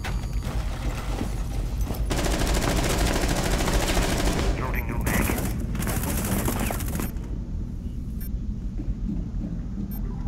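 Sustained automatic gunfire tearing through a wall in Rainbow Six Siege, loud continuous bursts for several seconds broken by brief pauses, then a quieter stretch with scattered shots and faint voices.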